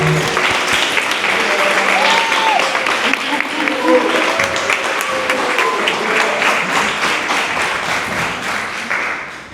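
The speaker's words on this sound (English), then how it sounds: "So Francisco and Shepard, everyone give them a round of applause." An audience fills a talk venue with loud, dense applause for two artists on stage, a sustained wash of many hands clapping that stays strong and then slowly tapers near the end, with a few brief voices mixed in.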